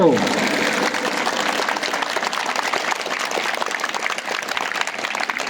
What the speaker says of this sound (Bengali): করতালি দিয়ে ওনার প্রতি অভিনন্দন জানাবো